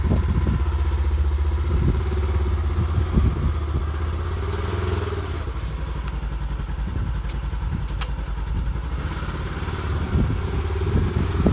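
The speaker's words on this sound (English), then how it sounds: "Using the Ranger to haul the dirt around back and dump it where we need to backfill" A 2020 Polaris Ranger Crew 1000 Premium UTV rumbles steadily as it drives with a full bed of dirt. The loud mid-pitched engine drone is close, with rattling clatter and slight shifts in revs.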